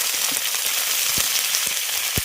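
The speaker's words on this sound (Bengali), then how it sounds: "পেঁয়াজটা ভেজে নিয়েছি এবার এর মধ্যে দিয়ে দেবো আদা রসুন আর শুকনো লঙ্কা বাটা" Ginger, garlic and dry red chili paste frying with already-fried onions in a pan, giving a loud, steady, close sizzle with small crackles and pops throughout.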